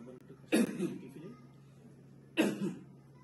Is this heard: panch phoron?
no